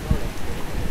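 Fine spray falls like rain at a very tall waterfall in Mesetas, Meta, a close, steady hiss with a low rumble and a brief thump at the start.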